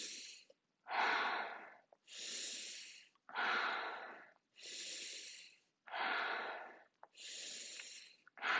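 Slow, steady breaths from a breathing exercise, close and clear, alternating between inhales and exhales in an even rhythm with short pauses, about eight breaths in all.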